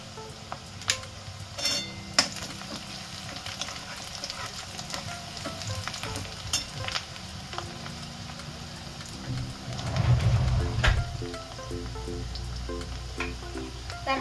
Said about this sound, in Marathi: जिरे, मोहरी आणि कांदा तेल टाकून दिलं याच्यामध्ये कढईमध्ये. आता हे चांगलं थोडंसं भाजून घेऊया.